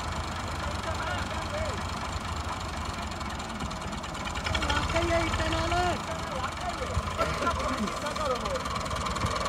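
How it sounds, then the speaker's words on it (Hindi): A Massey Ferguson 240 tractor idles steadily while reversing slowly, a continuous low chugging engine drone held at a constant level, with people talking over it. "वो भाई ट्रैक्टर पीछे हट गया"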